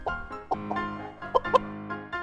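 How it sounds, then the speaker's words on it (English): A chicken clucks several times, close and clear, in short choppy bursts with a couple of sharper squawks near the end. "It's a chicken."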